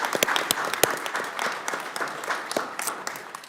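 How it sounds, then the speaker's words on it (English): People at a congressional committee business meeting give a round of applause, a dense patter of many hands with a few sharp nearby claps standing out, steady for several seconds without speech. "why don't you guys stand up and so we can give you a little round of applause"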